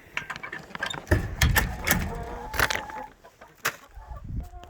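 Several chickens cluck and squawk close by inside a coop converted from an old dog kennel, with overlapping bursts of busy, uneven calls.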